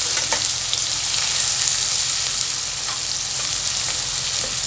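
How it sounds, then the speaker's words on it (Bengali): Chopped onion fries in hot oil and is stirred with a ladle, giving a dense, loud, continuous sizzle with faint scraping of the ladle against the pan. "এখন আমি এতে এক কাপ পরিমাণ পেঁয়াজের কুচি দিয়ে দিচ্ছি।"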